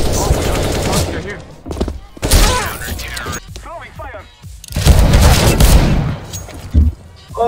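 Video game gunfire, dense rapid automatic bursts and sharp shots that come and go in waves, loud and close, with excited voices talking over parts of the action.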